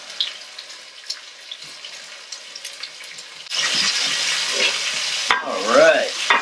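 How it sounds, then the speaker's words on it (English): Shrimp dropped into hot oil in a paella pan for seafood paella with chorizo set off a steady, loud sizzle after a quiet start. A brief scrape and stirring clatter follow near the end, with no talking. "Put the shrimp right into the oil. Let that cook on one side for a couple minutes."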